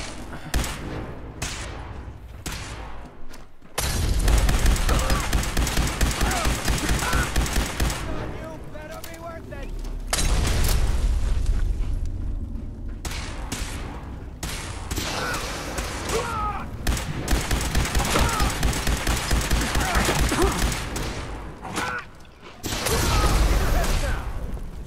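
Sustained gunfire in Fallout 4 crackles in long, dense bursts with brief pauses, loud and close, mixed with clanking mechanical noise, while a voice talks over parts of it.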